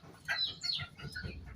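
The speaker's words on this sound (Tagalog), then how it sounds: "Ayan, malaking inahin." A big hen gives several close, short clucks and squawks in quick, uneven bursts over quiet outdoor background noise.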